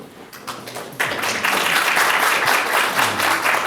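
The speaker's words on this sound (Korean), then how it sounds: "큰 박수로" Audience applause at a nuclear safety regulation workshop in Korea, welcoming a nuclear engineering professor to the podium; scattered claps build into full, steady clapping after about a second and hold loud to the end.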